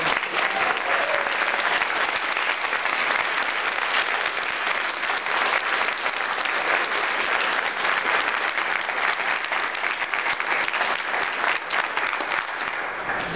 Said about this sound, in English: I'd really like all the exhibitors that are in the audience to stand up and give them a round of applause